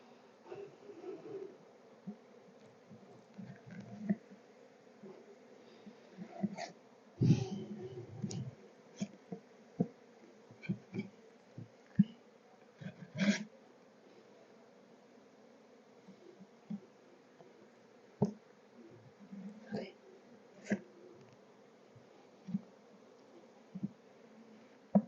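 Honeybees buzzing faintly around an open hive being serviced to clear messy cross-built comb, a low persistent drone with scattered clicks and knocks from handling frames.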